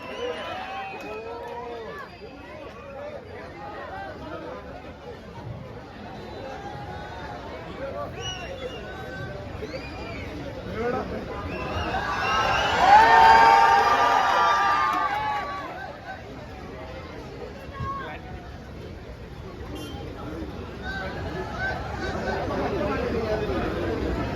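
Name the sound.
crowd applauding to welcome actor Dileep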